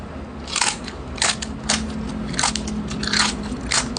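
Several sharp, crunchy bites into crisp roast pork (lechon) skin, close to the ear, spaced irregularly with brief chewing crackle between them; no talking.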